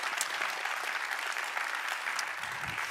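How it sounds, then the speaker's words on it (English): An audience applauds a professor after a masterclass talk on public corruption, a steady dense wash of clapping from a large room that holds even throughout. "Can I get a big round of applause for Professor Christopher Stone?"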